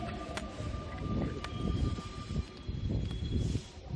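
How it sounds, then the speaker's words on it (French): A Paris metro train pulls into the station with a loud, continuous rumble and rolling noise, thin tonal whines and squeals running over the top. "le métro arrive"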